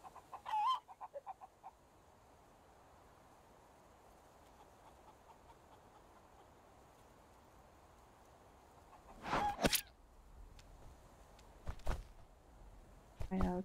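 A chicken clucks in short scattered bursts in the Caribbean island survival game Survival: Fountain of Youth, over a quiet ambient hum with a voice now and then.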